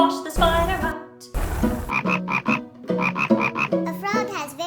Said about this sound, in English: a frog has very strong back legs that help it jump far.